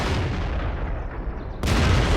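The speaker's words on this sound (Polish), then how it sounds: "No i teraz my oddaliśmy strzał" A steady low rumble in World of Tanks gives way to a sudden loud tank cannon shot near the end, a sharp, close boom with no talk.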